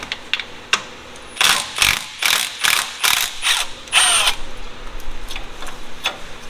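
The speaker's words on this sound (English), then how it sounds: "Loosen up the e-brake bracket right here." Ratchet wrench loosening the e-brake bracket bolt on a third-generation Toyota 4Runner, a run of rapid, loud clicking bursts in steady rhythm, close up, with no talk.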